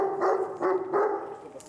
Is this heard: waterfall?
no